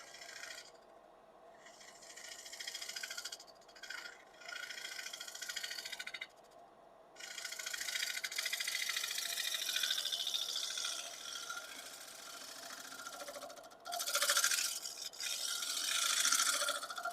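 A woodturning tool taking a very light cut on flaming box elder wood, a steady close rasping scrape that runs on and off in sustained passes with brief pauses, no talking.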